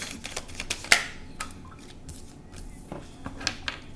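Tarot cards being shuffled and drawn by hand, a sequence of soft crisp slaps and flicks with one sharper snap, close and fairly quiet.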